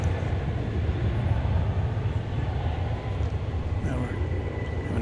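An American Airlines heavy jet lands at DFW airport on runway 20 right, a loud, steady low roar of engines rumbling without a break, with a voice talking over it.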